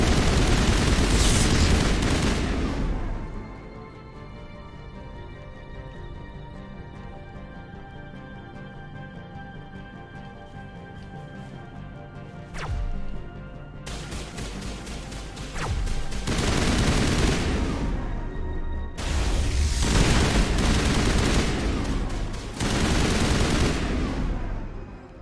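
A newly acquired gun fires in Mass Effect Legendary Edition: a loud opening burst, a long quieter stretch with faint tones and isolated cracks, then several sustained rapid volleys near the end.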